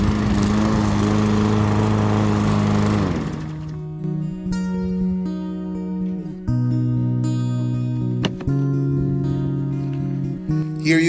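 A lawn mower runs continuously, chopping fallen garden leaves into a catchment bag. The engine drone is loud and close, dropping to a lower, steadier hum after a few seconds, with no talking.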